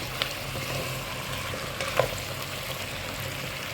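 Vegetables for avial sizzle steadily in a pan while a utensil stirs them, with a few soft scrapes and taps over the constant frying hiss.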